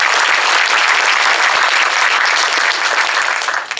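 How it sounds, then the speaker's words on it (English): An audience at a civic service summit breaks into loud, sustained applause, dense steady clapping filling the space for a few seconds before starting to fade. "Please join me in giving him a round of applause."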